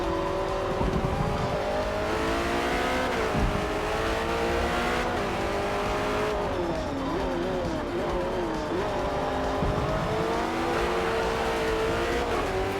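Race car tires squeal through a corner in second gear in Forza Motorsport, an endurance-legends Ford versus Ferrari race, under a steady loud engine drone whose pitch rises and falls with each shift, with talk faintly in the mix.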